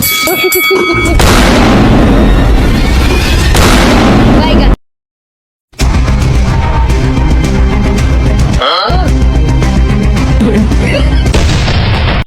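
Loud missile-strike explosion effects boom and burst repeatedly, with a brief silent gap in the middle, over a busy comic scene with voices.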